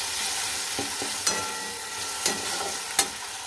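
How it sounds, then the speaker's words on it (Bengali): Potatoes frying with cumin and coriander powder in a pan for a Bengali aloo dish: a constant hiss of hot oil punctuated by a few soft spatula scrapes and three sharper knocks against the pan, no speech. "দিয়ে এবার এটা আমি ভালো করে কষিয়ে নেব।"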